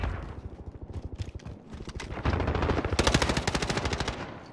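Rapid automatic gunfire in a Modern Warfare match, close and loud with rhythmic bursts of shots that grow denser and heavier toward the end.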